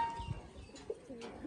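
A domestic coloured pigeon of the gorra type coos softly a few times, low and throaty against a quiet background.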